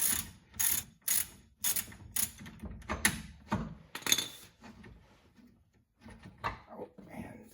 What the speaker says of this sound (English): we're working on it now just with the 1/2-inch ratchet and the 18 mil socket